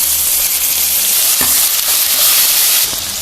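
Onions, tomato and salt fry in a pan for a potato sagu curry, giving a steady, loud sizzle with a few soft stirring knocks and no voices.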